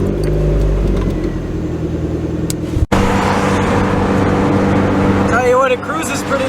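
A car with a new spark plug hums steadily while cruising, with a sharp click partway through and faint whining noises toward the end.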